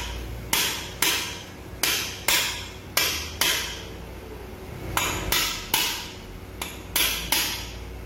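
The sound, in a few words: hammering a gear into a Yamaha NMAX CVT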